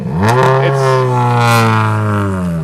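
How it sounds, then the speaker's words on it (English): A WRC rally car engine revving loudly and close by at Rally Spain, with a sustained, strongly harmonic roar that climbs in pitch early on and then holds steady at high revs. "Noisy cars, aren't they?"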